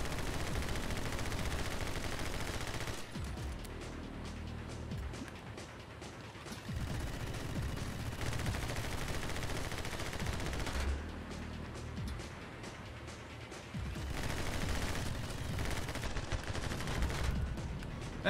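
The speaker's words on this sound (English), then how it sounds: "I think my machine guns might actually work better for this." Machine gun fire in the video game My Friend Pedro, dense continuous rattling bursts with rapid repeated shots, loud and sustained throughout with short dips between volleys.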